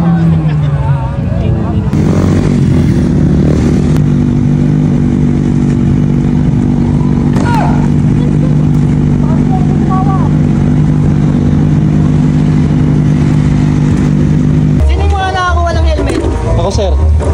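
A motorcycle engine drones steadily while riding, loud and close throughout, with traffic clatter and voices talking over it.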